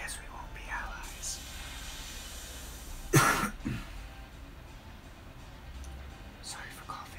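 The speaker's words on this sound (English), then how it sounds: "Sorry for coughing." A single sharp cough close to the microphone, loud against a quiet, whispery backdrop of soft breathing and faint murmured speech.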